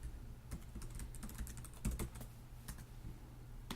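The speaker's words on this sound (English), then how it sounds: "I'm going to type in a website that I know has a problem so I can show you how it works" Someone types a website address on a computer keyboard, producing quick, irregular key clicks close by. The typing is sharp and carries on alone for a few seconds with no voices.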